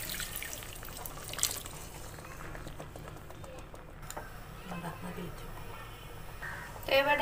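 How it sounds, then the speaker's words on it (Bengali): A little water is poured into a pan of spiced shrimp bhuna, a faint steady trickle and drip running for several seconds under a quiet room hum. "এবার সামান্য একটু পানি দিয়ে দেব।"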